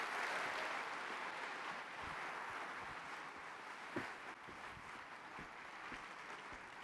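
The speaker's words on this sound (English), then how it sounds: "Let's give them a round of applause." A crowd at a startup competition finals event applauds the founders, a broad steady wash of clapping with a few sharper individual claps, fairly faint and slowly fading.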